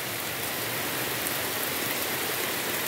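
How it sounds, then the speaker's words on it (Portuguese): Heavy rainstorm pounding a rural house in the Brazilian backcountry, a dense, steady hiss of rain on surfaces that stays loud and unbroken throughout, with no voices. "Muito forte a chuva. Choveu a noite toda. Amanheceu chovendo ainda. Um temporal forte demais."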